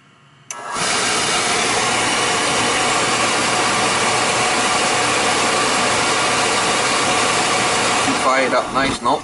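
An oil furnace burner fires up with an abrupt onset and settles into a loud, steady roaring rush that holds for several seconds before fluttering and cutting off near the end.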